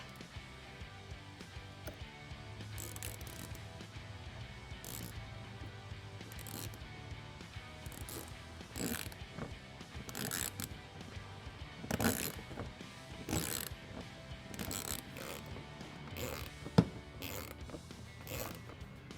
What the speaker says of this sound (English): remove the 3 T15 Torx screws from the fender liner so you can pull that back